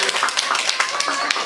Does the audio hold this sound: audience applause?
yes